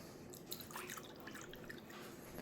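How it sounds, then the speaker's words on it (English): Water is poured into a cup for mixing puppy milk replacer, a soft continuous trickle with faint splashing, close and alone. "Pour that into my cup."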